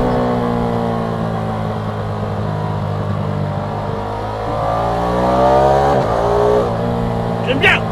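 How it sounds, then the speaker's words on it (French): A Ducati Streetfighter motorcycle engine idles with a deep, throbbing rumble, then revs up briefly before settling back, loud and close throughout. "Avant même de connaître le bruit d'origine de la Street Fighter, extrait"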